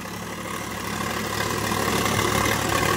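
A Sonalika 47 RX tractor engine runs steadily in a potato field, a constant close mechanical drone with no talking.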